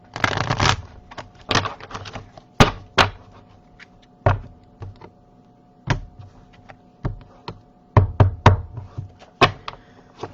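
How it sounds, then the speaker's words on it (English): Knuckles rap a tarot card deck on a table between bursts of shuffling, giving sharp, close wooden knocks scattered irregularly across a quiet room, including a few quick clusters of taps. "One more shuffle, 3 knocks,"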